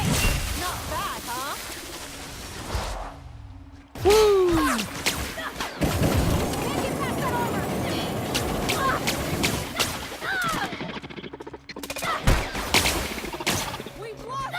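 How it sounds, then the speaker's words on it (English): Gunfire in the video game The Outer Worlds, with an enemy firing through a wall: dense, chaotic bursts of shots and impacts that keep coming, broken by brief pauses. "She's shooting through the wall."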